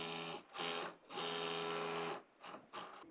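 A sewing machine stitches fabric for a layered skirt, running loud and steady in several bursts with brief stops between them, close by.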